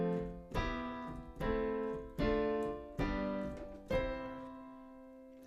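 Plain chord sequence played on a software instrument, five sustained chords struck one after another at an even pace, each ringing out and fading before the next, quiet and alone.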